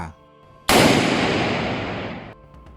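A single loud gunshot fired into the air in a large forest cracks out after a brief quiet, its sharp blast trailing off in a long echoing decay.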